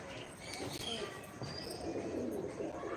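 Pigeons coo softly in a low, repeated murmur over a hum of background noise, with a few faint chirps and rustles nearby.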